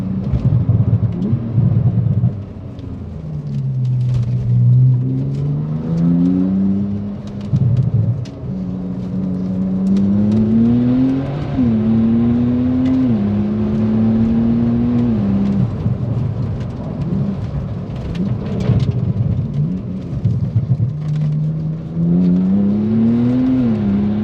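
Porsche 991 Turbo fitted with coilovers, driven through a series of road turns: a steady close engine drone whose pitch rises and falls repeatedly as it accelerates and eases between corners, with tire and wind noise underneath.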